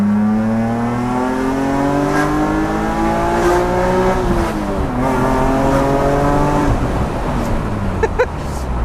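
A BMW Z3 M roadster with an S54B32 engine and a sprint exhaust revs loudly and climbs through the gears, the exhaust note rising and dropping with each shift, close and sustained, with no one speaking.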